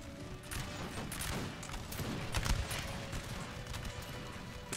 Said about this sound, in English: The British are getting fired upon from both sides.